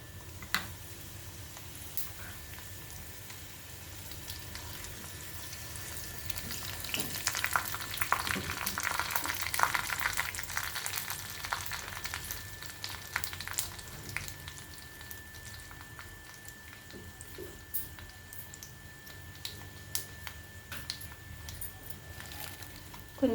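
Dried red chillies crackle in hot tempering oil for a curry-leaf chutney. The pan gives a continuous sizzle with scattered pops and spatters that swell in the middle and then settle into a steady fry. Nobody speaks.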